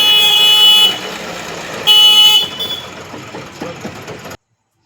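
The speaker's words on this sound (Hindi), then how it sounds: "इसके बाद हॉर्न बजा के दिखलाएंगे।" Two loud, blaring e-rickshaw horn honks close by, the second shorter, followed by a low motor rumble that fades away.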